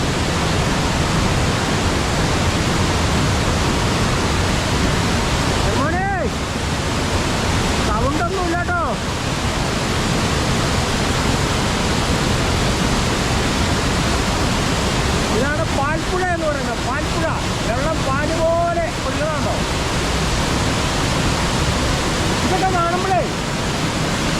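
A hidden waterfall at Malayinchi, Thodupuzha in Idukki pours over rocks as a loud, constant broadband roar filling the whole stretch, with a voice speaking briefly in a few spots above it.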